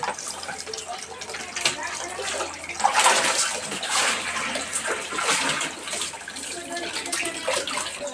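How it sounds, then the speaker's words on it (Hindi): Tap water splashing steadily into a basin while dishes are washed at home, a continuous close rushing with small clinks and surges, and people talking faintly underneath. "अब देखिएगा इस बर्तन धोएगी, अंदर में पानी भी गिर रहा है"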